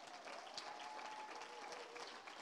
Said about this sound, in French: j'aimerais que vous les encouragiez en applaudissant